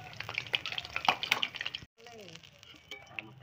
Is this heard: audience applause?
no